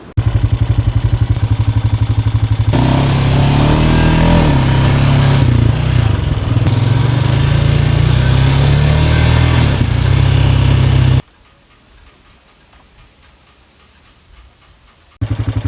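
ATV quad bike engine running steadily while being ridden in Santa Teresa, Costa Rica, a loud continuous droning hum with shifting pitch, then cutting out abruptly near the end before a brief return.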